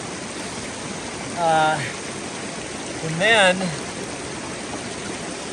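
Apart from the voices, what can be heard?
flowing water at a trail water source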